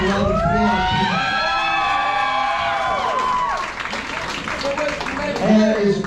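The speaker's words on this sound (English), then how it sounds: "Give yourself a round of applause." A pro wrestling crowd cheers and applauds loudly, with whoops and shrill shouts over steady clapping in a busy arena.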